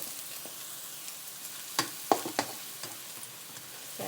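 Chili paste and garlic stir-fried in a pan over low heat to make Thai chili dip with canned fish, a quiet soft sizzle broken by a few sharp scrapes and clinks of the spatula.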